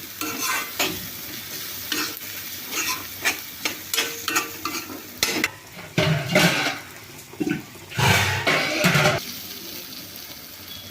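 Gongura curry stirred after chili powder goes in, a spoon scraping and clacking against the pan in irregular bursts over a soft, steady sizzle, close and fairly quiet.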